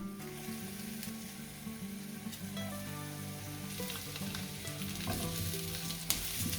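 Salad potatoes and crushed garlic fry in olive oil in a lidded pan, giving a steady, close sizzle and crackle throughout with a few sharper pops near the end.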